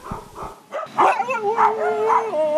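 Dogs at an animal shelter housing around a hundred dogs bark and yelp, starting with a few short barks before a continuous, close chorus of overlapping yips and whines.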